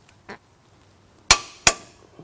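Metallic clanks from a 17mm socket on the lower rear shock bolt of a Toyota 4Runner or Lexus GX suspension install: a faint tap, then two sharp ringing impacts close together, and a soft knock at the end.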